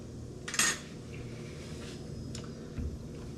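Fork clinking against a plate of smoked and roasted duck with cherry mango sauce, a sharp metallic tap followed by a faint scrape and a soft knock, quiet room.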